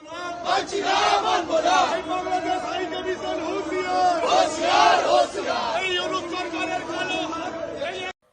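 A loud crowd chanting protest slogans in unison near the Bangladesh deputy high commission, against attacks on Hindus in Bangladesh, voices rising and falling in repeated bursts, close and continuous throughout.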